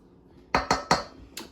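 Three quick metal-on-bowl clinks, then a fourth lighter one, as pizza dough ingredients with baking powder are stirred, close and crisp against a quiet background.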